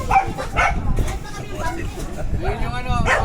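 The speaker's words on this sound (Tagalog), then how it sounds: "Yun yung ano, aso." A dog barking and yipping close by amid lively crowd chatter at a home fiesta and blessing gathering, with people talking over it throughout.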